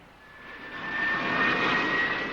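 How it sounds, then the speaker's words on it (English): A jet car's engine gives a loud, sustained jet roar with a high whine running through it, swelling as it goes on and holding steady near the end. "The jet car looks good and sounds better"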